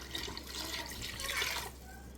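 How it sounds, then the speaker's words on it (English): Water pours into a pot of sugar for a doubled batch of simple syrup used in canning peaches, a close, splashing stream that swells and then tapers off after a second and a half, with no voices. "I'm going to add 10 cups of water now because I'm doubling this batch."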